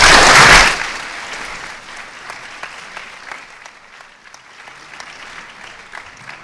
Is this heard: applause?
yes